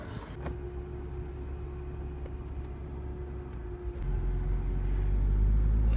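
A manual car's engine idles with a steady low rumble, then the pitch and loudness rise and swell as the clutch is slowly released while pulling away, heard from inside the cabin with no talk.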